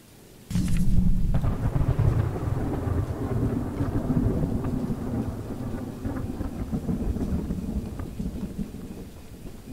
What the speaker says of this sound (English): It's been raining this whole time.